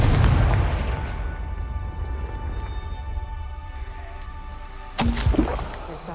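A Confringo blasting spell goes off in a Harry Potter video game, a sharp loud burst near the end that cuts over a steady low rumbling game ambience.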